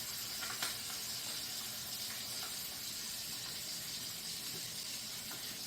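Scrambled eggs cooking around bacon in a skillet, a faint, steady hiss and soft crackle from the pan, continuous and fairly distant, with no talking.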